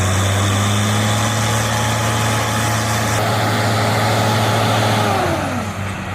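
Heavy tractor engine running steadily and loudly at close range, a constant deep drone with a whining tone that dips slightly near the end; no voices.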